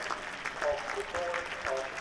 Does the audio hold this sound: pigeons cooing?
no